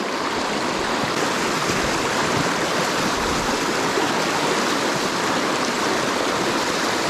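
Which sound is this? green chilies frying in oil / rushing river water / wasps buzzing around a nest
rushing river water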